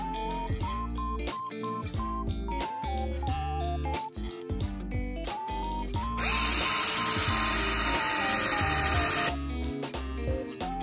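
A power drill whirs in short bursts into a decorative board, then runs steadily for several seconds before stopping, with background music playing throughout.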